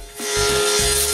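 A sliding dovetail is cut at an angle in wood against a rib fence, producing a loud, steady, close machine whine with a gritty cutting tone that swells as the bit bites in.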